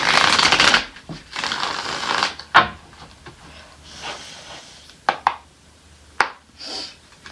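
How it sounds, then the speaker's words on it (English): Bursts of papery riffling and soft slaps as tarot cards are shuffled, close and intermittent, with brief pauses between shuffles. "So let's go ahead and shuffle."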